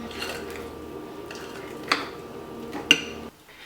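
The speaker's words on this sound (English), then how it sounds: "Now stir these until they're well combined." Canola oil and milk being stirred together in a mixing bowl for chocolate cupcake batter, heard as quiet utensil scraping and clinking with two sharper knocks against the bowl near the end.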